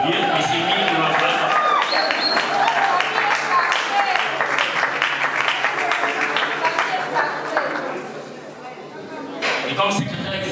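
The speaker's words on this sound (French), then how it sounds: "j'invite l'assistance à applaudir" Applause at an NGO's official launch event in a hall, sustained clapping from the assembled crowd with murmured voices, fading briefly near the end before picking up again.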